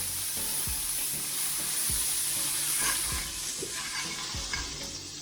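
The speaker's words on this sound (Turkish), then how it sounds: "çok az bir tereyağını tavamızda gezdiriyoruz" Butter frying in a pan gives a steady broadband sizzle through the whole stretch, broken by a few soft scraping strokes of stirring. No one speaks.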